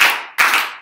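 Two sharp, close hand claps from students in a classroom, crisp and loud, spaced about a third of a second apart with quick decay after each.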